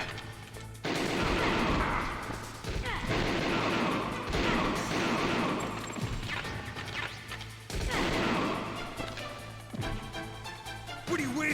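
Gunfire in the stealth action game Metal Gear Solid: loud, dense bursts of shots and crashing impacts come in waves, with game music underneath and brief quieter gaps.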